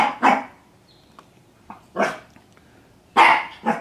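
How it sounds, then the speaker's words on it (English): A small dog barks in short, sharp bursts, around five yaps spread irregularly across a few seconds, fairly near and loud against a quiet background. "Little dog driving me nuts."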